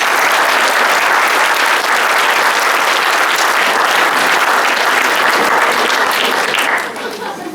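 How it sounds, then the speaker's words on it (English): A crowd at a retirement reception applauds loudly, a dense sustained burst of clapping that fades near the end, with some voices mixed in. "Let's give them a round of applause."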